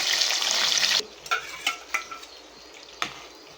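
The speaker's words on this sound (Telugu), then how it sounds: "ఈ ఉల్లిపాయ పేస్ట్ వేసుకొని పచ్చి వాసన పోయేదాకా బాగా వేయించుకోవాలండి." Onion paste fries in a pan with cloves and cinnamon, starting with a loud hiss that drops off, followed by several soft stirring scrapes and taps, close by.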